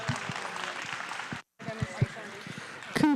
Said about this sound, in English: let's give all 3 of them kids a big round of applause